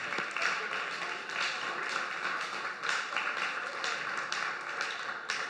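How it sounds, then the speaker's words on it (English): A church congregation claps for the fathers on Father's Day, a steady, moderately distant patter of applause with scattered sharper individual claps throughout. "Please give the dads a round of applause"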